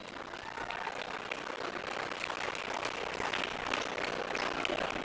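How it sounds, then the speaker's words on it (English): Crowd applauding at a climbing competition, the Open A, Inclusive and Under 17 lead finals, a continuous diffuse patter of clapping that stays steady and moderately distant, with no voices on top. "So a big round of applause to K2 Base Camp, our naming sponsor and ongoing support."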